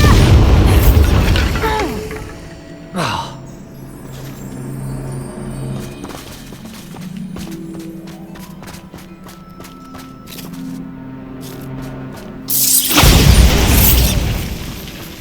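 The Bombarda explosion spell in Hogwarts Legacy sets off a loud opening boom, then crumbling debris and mechanical clatter, and a second heavy blast at the end. No one speaks.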